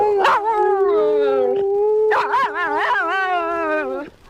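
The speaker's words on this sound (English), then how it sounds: "could be reduced to a puddle by his own dog, Yuki, as we hear here. Come on, sing for me" Yuki, President Lyndon Johnson's dog, howls in long wavering tonal cries that rise and fall in two main bursts, close and loud, with a voice coaxing briefly underneath.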